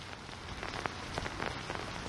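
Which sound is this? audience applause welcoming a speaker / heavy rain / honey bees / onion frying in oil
heavy rain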